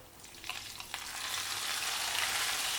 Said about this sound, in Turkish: duyduğunuz gibi sesi de arkadaşlar çorbamızı nane sos ile buluşturuyoruz